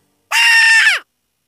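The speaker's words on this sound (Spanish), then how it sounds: "cuando la mujer soltó un fuerte grito" A single loud, piercing scream from a woman, lasting under a second, then abrupt silence.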